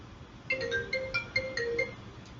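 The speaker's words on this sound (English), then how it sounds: "it's in a ringing state right up until my phone actually answers" A phone ringing during an outbound call test on an open source CPaaS platform, a repeating electronic ringtone of short melodic tones over faint background hiss, with no talking.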